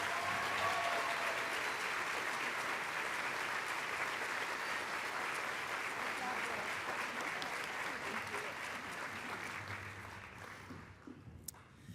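Sustained applause from an audience at the 26th Crystal Apple Awards ceremony, a dense, loud wash of clapping that holds steady before tapering off at the end, with a voice briefly heard as it fades.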